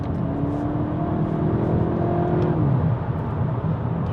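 A VW Golf GTI Mk8.5 on an easy daily drive, its engine humming steadily with a rising then falling whine as it pulls through the revs, close and constant over road roar.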